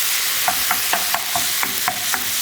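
Lamb mince frying in a pan, a steady hiss of sizzling fat punctuated by about ten rhythmic scraping knocks as a utensil breaks up the meat, close and alone.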